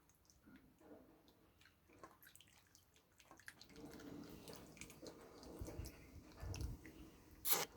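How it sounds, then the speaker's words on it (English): Marinade is poured over meat in a Tupperware container, making soft liquid trickling and wet splashing that build in the second half. Faint clatters and a sharp knock come near the end, and no one speaks. "I'm about to pour the marinade over it"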